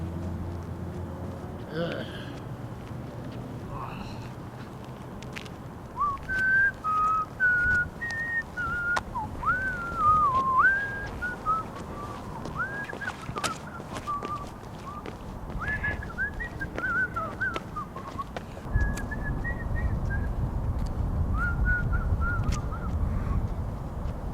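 A person whistles a wavering, halting tune of short notes and slides for many seconds, with breathy pauses and some low rumble and background noise.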